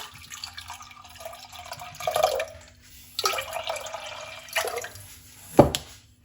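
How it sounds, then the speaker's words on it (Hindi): Two glasses of water pour into a glass of fresh aloe vera juice in a kitchen, several short splashy pours and drips, close and fairly quiet, with no talking. "यहाँ पे हम डालेंगे 2 गिलास पानी"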